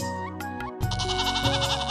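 A goat bleats loudly and close by in two wavering, nasal cries with a short break between them, heard alone without talk.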